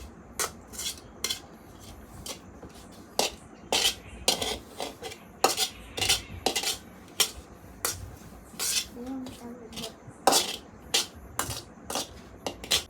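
Green chillies and onions pounded in a mortar, a series of sharp, irregular knocking strikes up close with short pauses between blows.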